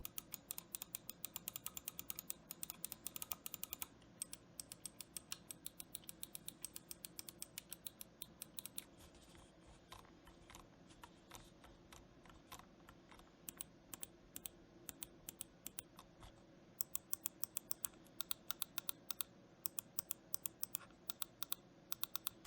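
Budget gaming mouse buttons clicking in rapid, crisp bursts, close and dry, with a quieter stretch of fewer clicks midway before fast clicking resumes; no talking.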